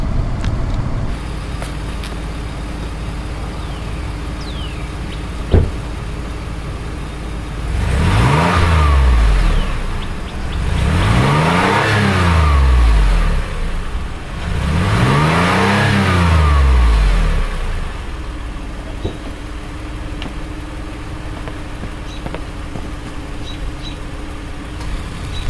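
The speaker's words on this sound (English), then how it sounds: "Now I'll give you an exhaust clip." A 2005 Toyota Highlander engine and exhaust, idling steadily, then revving loudly three times in even rising-and-falling sweeps before settling back to a smooth idle, close and clear with no talking.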